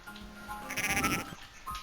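Sheep bleat in the Game Boy Advance game Cool Herders, a short synthesized bleat in the middle over quiet game sounds, clear and fairly close, with a fainter blip near the end.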